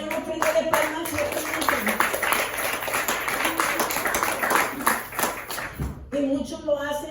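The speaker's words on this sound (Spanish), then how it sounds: "Aleluya, den una ofrenda de palmas." A church congregation claps together in a dense, rhythmic burst of palm claps that fills most of the stretch and then stops abruptly, followed by a voice speaking.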